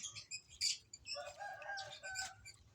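Pigeons flap their wings in quick flurries, mixed with soft clucking bird calls, fairly close and with no talking.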